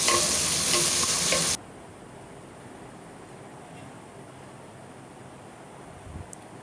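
Onion, green chili, garlic and shrimp frying in a pan, a loud dense sizzle for the first second and a half, then dropping away to a faint low background hiss with a small clink near the end.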